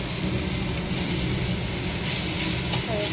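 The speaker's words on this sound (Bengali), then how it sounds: "এইভাবে একটুখানি সাদা সিম্পল লবণ দিয়ে ভাজতে হবে" Leafy greens frying in a pan with a pinch of plain white salt, giving a loud, continuous close sizzle that fills the whole stretch with only faint scraping beneath.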